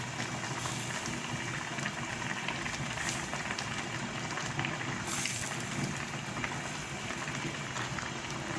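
Okra soup simmering in a pot on the stove, giving a faint, steady bubbling hiss with no speech.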